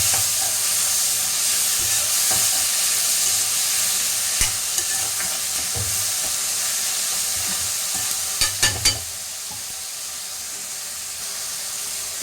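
Chopped tomatoes sautéing in a pan, a steady close sizzle and frying hiss running throughout, with a few brief stirring clinks and scrapes near the end.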